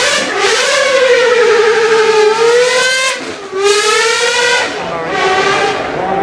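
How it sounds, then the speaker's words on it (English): A Gordon Murray Automotive T50's naturally aspirated 4-liter V12 engine screams through several rising, high-pitched revs, each climb breaking off in a brief dip before the next. The sound is loud and close, with no voices over it. "the 4-liter naturally aspirated V12 from the GMA T50 that sounded a little something like this"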